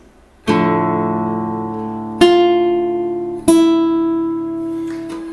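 Fingerstyle acoustic guitar plays a piece from Kung Fu Panda: three ringing chords, each plucked firmly and left to sustain and fade before the next, played alone and close.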